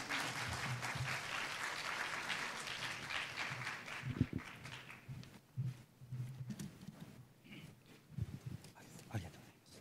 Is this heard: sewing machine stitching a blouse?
no